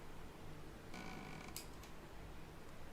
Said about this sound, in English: That wasn't the rain. It was the sound of the hinges.